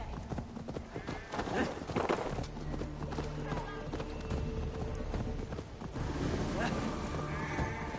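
Horse hooves clip-clop steadily in Assassin's Creed Valhalla, a rapid, fairly close rhythm that runs throughout, with game voices talking and shouting over it and a whinny audible.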